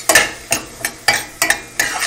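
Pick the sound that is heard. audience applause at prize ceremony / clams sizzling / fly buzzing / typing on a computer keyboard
clams sizzling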